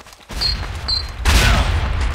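Bursts of gunfire from a shooter video game, a quieter stretch of shots followed by a louder, denser volley with a booming low end, close and continuous.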